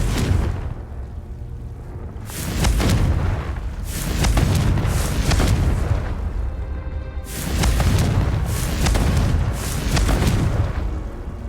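Repeated heavy booms of the Confringo fire spell in Hogwarts Legacy, about four loud explosive blasts arriving every couple of seconds with rumbling tails between them.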